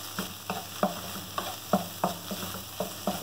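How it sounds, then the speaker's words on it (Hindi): Minced meat fries with red chilli and black pepper powder in a pan, sizzling steadily as a spatula scrapes and stirs in a regular rhythm of close, sharp strokes. "मिक्स करेंगे और इसे फ्राई करेंगे।"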